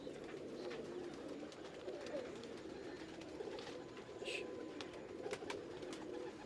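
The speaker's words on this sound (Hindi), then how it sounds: "लंबे कुंदे का कबूतर है माशाल्लाह" Pigeons cooing softly in a loft of long-bodied show birds, repeated low murmuring coos with a few sharper bird calls, fairly quiet and close.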